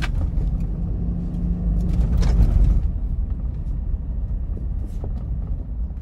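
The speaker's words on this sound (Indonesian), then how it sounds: "Namun memang suara mesin dieselnya masih terdengar dari dalam kabin." Toyota Fortuner TRD Sportivo 2020 diesel engine droning from inside the cabin while driving, a steady low rumble that swells briefly and then settles, with no talk.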